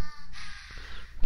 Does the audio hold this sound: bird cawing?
yes